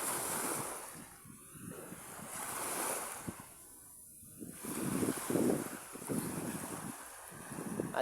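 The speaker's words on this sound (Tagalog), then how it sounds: "At yan lang naman yung mga alon mga kadagat, hindi masyadong lumaki yung alon." Sea waves wash in and recede in repeated surges near a moored dive boat, with a steady wind rush over the water and no talking.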